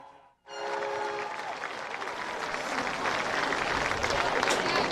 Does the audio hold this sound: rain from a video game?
no